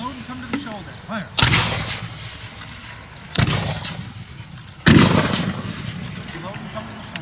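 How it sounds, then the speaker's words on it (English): Confederate infantry muskets fired by file during a Civil War drill at Gettysburg, three loud booming volleys spaced a couple of seconds apart, each with a rolling tail, between quieter stretches with a commanding voice. "we shall fire by file. Commence. Fire. Fire. Go right down the line"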